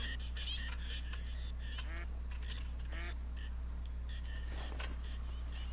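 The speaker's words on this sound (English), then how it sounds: "We got a ton of birds in here, though." Ducks and geese quack and honk in scattered calls across a lake feeding zone in the hunting game Call of the Wild, New England map, with a steady low hum beneath and a brief louder burst near the end.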